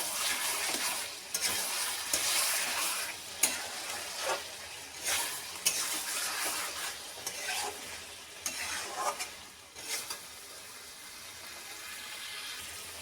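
Chicken curry being sautéed in a kadai that has started sticking, loud rhythmic scraping and stirring strokes over a hissing sizzle, bursts of activity easing toward a quieter sizzle at the end.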